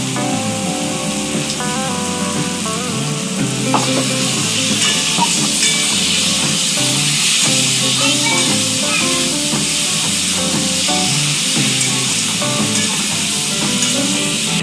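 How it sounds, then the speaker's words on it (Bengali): Chili powder hits a frying Bengali mutton curry base of browned ginger and garlic, raising a loud, steady, close sizzle and hiss that runs unbroken throughout with faint stirring. "ভালো করে ভেজে নিয়েছি, আর এখানে ঝালের গুঁড়োটা দিয়ে দিচ্ছি"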